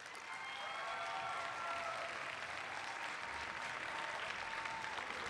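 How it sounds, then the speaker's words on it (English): Applause from a hospitality conference audience for a speaker, a steady wash of many hands clapping heard at a moderate distance, even in level throughout without voices over it. "Give him another round of applause, will you?"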